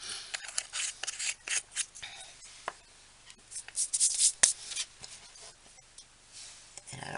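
Gold being rubbed onto faux iridized glass in close, scratchy strokes that come in irregular bursts with short pauses between them, with no talking.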